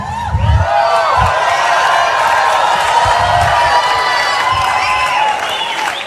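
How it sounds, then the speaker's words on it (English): An audience gives Tony Robbins a loud, sustained wave of applause and cheering, with whoops and shouts rising over dense clapping throughout. "Tony, why do you think these people were cheering for you like that?"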